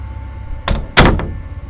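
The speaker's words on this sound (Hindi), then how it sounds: "दिव्य दरवाजा बंद करके" A door pushed shut in a hushed room, two sharp knocks close together, the second a heavy thud with a brief rattle after it, heard alone and close.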